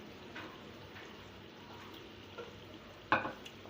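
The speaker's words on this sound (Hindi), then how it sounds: "अब हम उसमें जो प्याज हमने फ्राई करके निकाले हुए थे वो डाल देंगे।" Fried onions tipped into browned masala in a pan while making egg pulao, giving a soft steady frying sizzle with a brief louder stir or clatter near the end.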